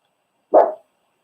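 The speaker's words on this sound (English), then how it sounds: "Yeah, doggy frightened me then." A single sharp dog bark in a quiet room indoors, close and loud, lasting well under half a second, with silence before and after.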